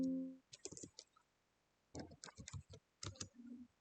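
Quick bursts of clicky keystrokes on a computer keyboard, typed in short runs separated by pauses, close and crisp, with a brief voiced sound at the start and end.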